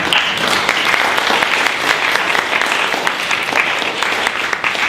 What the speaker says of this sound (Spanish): Por favor, unas palmas de bienvenida